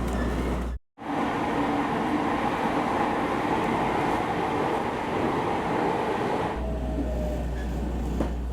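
A train running through Shizuoka tea country near Shimada, a steady loud rumble and rail roar that briefly cuts out near the start, then continues evenly.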